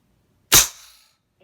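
A single sharp crack from an AEA Terminator Gen 2 .357 air rifle, loud and close, with a short decaying tail and silence on either side.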